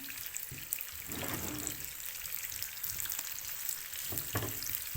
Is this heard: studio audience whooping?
no